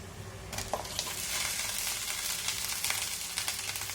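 Boiled potatoes fry with chilli powder and onion in a pan, a steady close sizzle with soft stirring scrapes and a few small pops.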